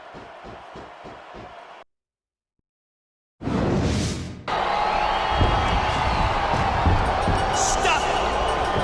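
A wrestling arena crowd in the WWE SmackDown vs Raw 2006 video game roars and cheers steadily after a cage match pin, preceded by a rhythmic stomping passage, a silent gap and a sudden loud burst.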